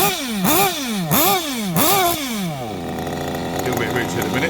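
Kyosho Inferno NEO 2.0 nitro RC car engine warming up, running a little rich: a loud, buzzy two-stroke whine blipped up and down three or four times, then settling into a steady idle.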